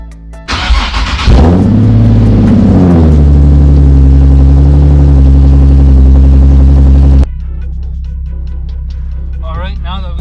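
A Nissan 370Z fitted with a hydraulic handbrake and drift spares starts up and revs hard, then settles into a loud, steady close-up engine drone before dropping to a quieter idle with faint chirps near the end.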